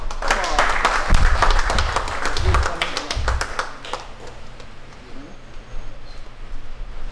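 A burst of applause from a group, many hands clapping rapidly at first, then thinning out and fading to scattered claps and quiet.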